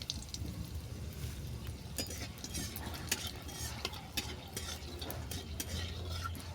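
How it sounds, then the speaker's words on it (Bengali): Whole garam masala and a dried red chili fry in hot oil, giving a soft, continuous sizzle with occasional stirring clinks. The sound is quiet and close, with no talking. "এই তেলের মধ্যে ফোড়নগুলোকে দিয়ে দেবো। দিয়ে দিলাম গোটা গরম মশলা, আর দিলাম একটা শুকনো লঙ্কা।"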